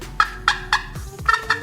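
A hands-free turkey call device produces soft turkey purrs and clucks: several short, evenly spaced rolling notes, close and clear, with no talking.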